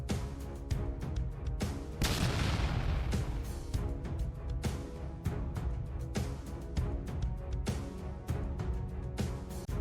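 Ukrainian artillery fires long-range strikes on Russian positions, a dense series of loud booms and cracks in rapid, irregular succession, with one long rumbling blast early and steady pounding after it.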